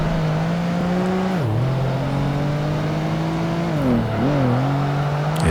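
Race car engine from Project Gotham Racing 2 drones loud and steady, with two brief dips in pitch as the driver lifts and shifts before climbing back, no voices over it.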